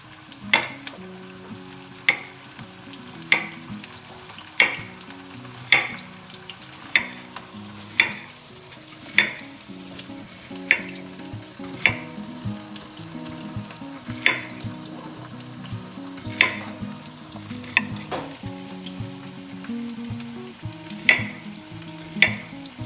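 Zucchini slices fry in hot oil with a steady, close sizzle, punctuated by regular sharp clicks and taps of a utensil against the pan roughly once a second throughout.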